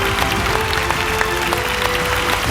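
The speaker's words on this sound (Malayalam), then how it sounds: "അപ്പോ സിജുവിന് ഒരു വലിയ കൈയടി എല്ലാവരും" An audience applauds for a performer named Siju at a comedy awards mega event, a steady dense wash of clapping that holds evenly through the whole stretch, fairly loud with no voices on top.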